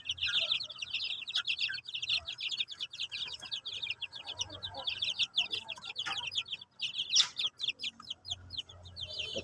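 Month-old shamo chicks peep and chirp in a dense, continuous high chorus, with occasional softer clucks beneath, fairly close and steady throughout.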